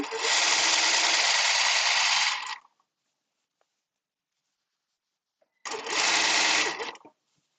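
A sewing machine stitches seams in two steady, close bursts of rapid whirring, each about two seconds long, with a clear silent pause between them.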